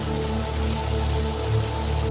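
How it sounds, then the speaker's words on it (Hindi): Heavy rain with strong wind in a cartoon story, a dense continuous hiss of downpour under a soft steady musical hum, constant and close, cutting off abruptly at the end. "बारिश भी खूब हुई"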